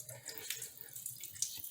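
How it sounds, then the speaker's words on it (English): Water runs from a bidet sprayer supply line just after it is reattached under a sink, making a steady hissy splashing stream, close and fairly quiet, with no voices. "And I have water coming out there"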